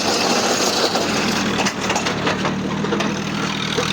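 A tractor spun around in place on one tyre, its engine droning steadily and loudly with a continuous broadband roar and mechanical rattle throughout, no voices present.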